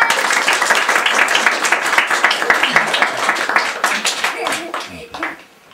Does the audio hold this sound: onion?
no